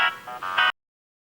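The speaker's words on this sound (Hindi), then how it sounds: "इधर बेटा देख तो किसका फोन है।" Phone ringing indoors, a short electronic ringtone of a few bright tonal bursts that stops abruptly.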